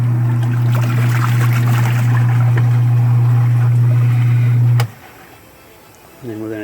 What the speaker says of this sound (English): I'm just going to do a 3-minute rinse cycle